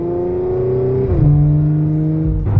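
A Range Rover SVR with a modified exhaust, heard as a loud, close engine drone that drops in pitch as the car shifts, then climbs into a sharp rev near the end.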